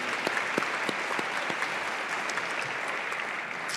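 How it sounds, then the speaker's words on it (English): At a public school foundation education celebration, a crowd applauds Ms. Jackson and the foundation, a continuous, moderately distant wash of clapping with a few sharper claps up front, holding steady throughout. "If you would, join me in a round of applause for Ms."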